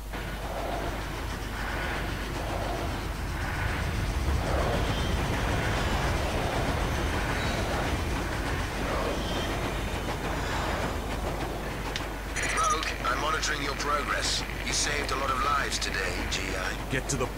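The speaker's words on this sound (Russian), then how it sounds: "Это сейчас, походу, момент с поездом какой-то будет." A train rolls by in the video game Rogue Trooper, a continuous loud rumble with rattling carriage noise throughout, joined by sharper metallic clanks near the end while a voice talks over it.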